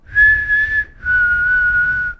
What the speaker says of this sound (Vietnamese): nghe được tiếng huýt sáo